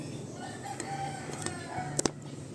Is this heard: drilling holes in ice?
no